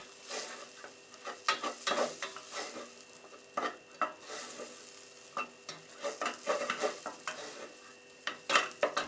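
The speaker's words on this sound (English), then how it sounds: "Keep stirring, cook for half minute on low heat." Tarka with turmeric stirred in a pan over low heat: soft repeated spoon scrapes over a gentle, faint sizzle, close and steady with no talking.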